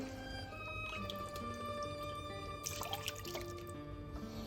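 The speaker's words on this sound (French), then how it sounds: "Je vais maintenant mouiller avec du bouillon pour couvrir la viande en fait." Broth is poured over ossobuco in a pot after the wine has reduced, giving faint, quiet trickling and dripping with a few soft splashes near the middle.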